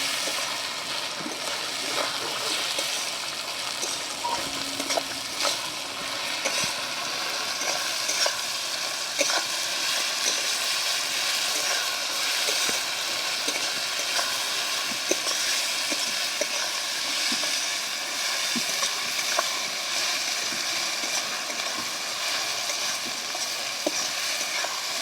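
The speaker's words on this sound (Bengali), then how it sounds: "রসুনটা ভালো করে ভেজে নেব।" Garlic paste sizzles steadily in hot oil in a pan for a village-style country chicken curry, with the clicks and scrapes of a stirring spoon repeating throughout at close range.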